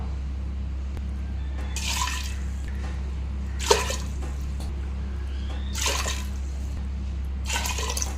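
Water is poured in bursts into a pot of mung dal and sago, four splashing pours over a low steady hum, close and moderately loud.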